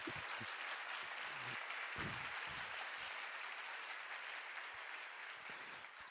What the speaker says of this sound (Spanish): Con esto del aplauso